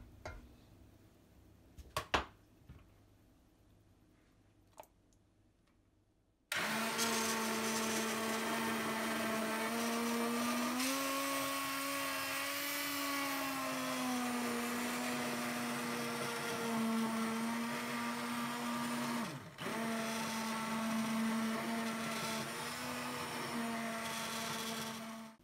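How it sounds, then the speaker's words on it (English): A hand blender whirs steadily through a pot of restaurant-style Indian curry base gravy, starting abruptly after a few quiet seconds of kitchen clatter and running loud and continuous with a brief dip near the end. "then blend until smooth using a hand blender"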